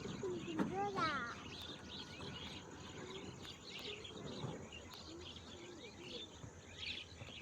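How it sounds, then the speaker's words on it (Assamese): Mynas call across a harvested paddy field, with scattered chirps and chatter over a steady outdoor hum, fairly faint and distant. "চাওকচোন চৰাই কিমান ধুনীয়াকৈ মাত, কি সুন্দৰ পৰিৱেশ।"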